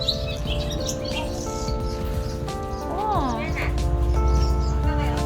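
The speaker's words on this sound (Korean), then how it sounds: "이러니까 새소리가 계속 들렸구나." Swallows chirp and twitter around their mud nests under the eaves of a countryside lodge, with bright repeated calls close by, mixed with people talking throughout.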